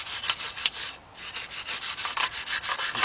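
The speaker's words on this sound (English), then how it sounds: "take your wire brush and you want to clean right here and clean right there" A wire brush scrubs rust and dirt off front brake hardware on a Ford Expedition or F-150 truck, a steady run of rough back-and-forth rasping strokes with a brief pause near the middle, close and fairly loud with no talk.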